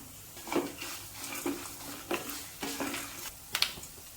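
Dried red chillies and cashew nuts fry in a pan over a low flame, a soft steady sizzle broken by a few light scrapes and clinks of a spoon stirring against the metal, close and alone.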